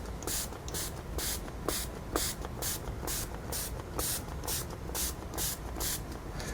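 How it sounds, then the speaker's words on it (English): Diamond spray of 0.5 micron grade misted lightly onto a paddle strop from several inches away, a steady run of short hissing bursts repeating in an even rhythm, close and clear with no talk. "I'm just going to start spraying lightly up and down the strop."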